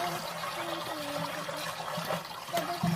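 Water gushing and hissing with steam from a rocket stove water heater, a continuous close splashing flow with gurgles and brief bubbling pops.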